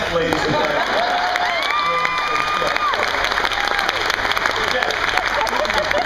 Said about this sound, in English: A big round of applause for Jeff, ladies and gentlemen.